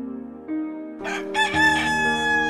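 A rooster crows loudly and close by, one long rising-and-falling call with a buzzy, strained tone.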